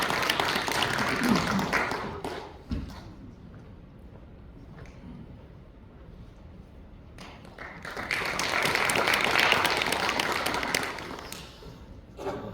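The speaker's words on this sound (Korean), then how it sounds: "박수로 환영하겠습니다" Audience clapping at a Korean March First Independence Movement anniversary ceremony as a National Assembly member is welcomed to speak, a broad burst of applause that fades to a lull and then swells again, loud and crowded.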